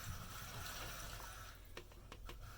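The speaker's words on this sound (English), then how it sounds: "I'm going to pour it in to my oils and butters." Hot lye water poured into oils and butters for cold process apple soap, a steady liquid pour running for about a second and a half before trailing off into a few small splashes and knocks.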